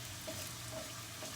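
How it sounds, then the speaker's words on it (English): Paneer cubes sizzle in hot oil with a quiet, steady frying hiss heard up close, and no voices. "I think it's sizzling, so I'm going to put these paneer cubes in there"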